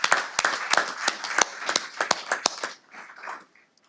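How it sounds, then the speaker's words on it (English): Clapping from a small group at a legislative meeting, sharp uneven claps for about two and a half seconds before thinning into a few faint scattered claps and quiet. "I think that deserves a round of applause in itself."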